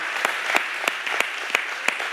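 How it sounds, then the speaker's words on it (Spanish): Church congregation applauding, a small group's clapping with distinct sharp claps roughly every third of a second over a soft background wash, brief and moderately close. "¿Podemos darles un fuerte aplauso, por favor?"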